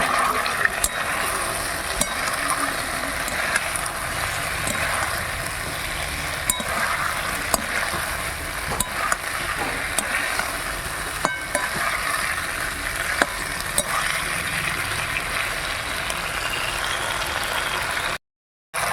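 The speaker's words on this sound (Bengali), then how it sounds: "এবার দিয়ে দিচ্ছি ভেজে রাখা আলু আর ফুলকপি এবার খুব ভালো করে কষে নেব" Fried potatoes and cauliflower are sautéed with spices in a pan, sending out a loud, continuous sizzle with frequent scraping and clinking of a spatula. The sound runs unbroken until it cuts out abruptly near the end.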